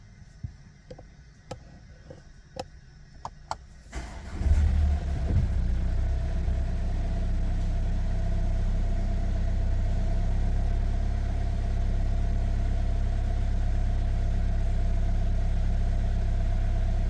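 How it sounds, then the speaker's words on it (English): A Mercedes-Benz A180d (W177) diesel, checked for a faulty fuel gauge fault, cranks after a few faint clicks and settles into a steady, close idle rumble that holds evenly to the end. "So I'm going to start the vehicle."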